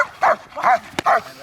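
An agitated trained German Shepherd protection dog barks three sharp, close barks in quick rhythm, with a brief snap or click between the last two.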